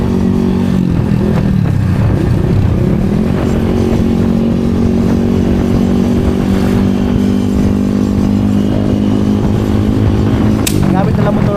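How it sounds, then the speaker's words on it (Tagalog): A Yamaha Sniper motorcycle engine runs loud and close, a continuous rumbling drone whose pitch shifts slightly early on and then holds steady while riding. "Ang gamit nila motor is Yamaha Sniper."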